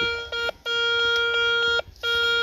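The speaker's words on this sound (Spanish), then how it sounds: "¿Quieres pasarle tu detector? A ver cómo suena." Metal detector beeping over a buried coin-like target in hillside soil, giving repeated loud steady electronic tones that stop briefly twice, close and clear with no talk.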